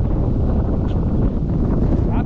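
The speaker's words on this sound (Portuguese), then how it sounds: "Olha a ventania que tá dando aqui, velho." Strong wind gusts on a cliff top batter the microphone, a loud continuous roar and buffeting that fills the whole clip.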